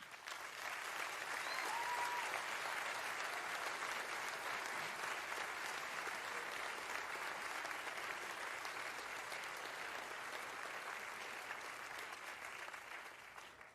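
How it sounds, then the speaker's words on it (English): A high school graduation audience in the 2021 commencement ceremony applauds the class, a long, dense burst of clapping from a large crowd that holds steady before gradually easing off. "let's give them a round of applause"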